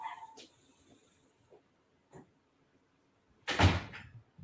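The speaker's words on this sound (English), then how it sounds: "Let me close that door" A door is closed inside a home, landing as one loud, close thud after a stretch of near quiet with a few faint knocks and rustles before it.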